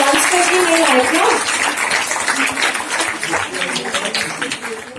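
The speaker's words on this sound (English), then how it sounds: "Ladies and gentlemen, a huge round of applause" Applause from a book launch audience at India International Centre, a loud, dense burst of clapping at the start that gradually thins, with a voice talking over it.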